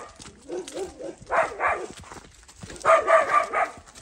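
A dog on a rural homestead near a forest gives a few bursts of barks and yips, separated by short pauses and fairly close.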